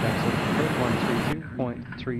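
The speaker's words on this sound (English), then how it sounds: "We are flying the Challenger 300 by DDenn. A little private jet on our way out of North Las Vegas" Engine roar of a Challenger 300 private jet in the X-Plane 10 flight simulator, departing North Las Vegas: a loud, steady broadband rush that cuts off abruptly partway through, leaving quieter sound with a voice talking over it.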